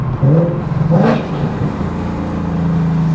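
A 2024 Ford Mustang S650 engine whirs and revs briefly while driving, a loud mid-range drone that swells early then settles into a steady hum, with no voices.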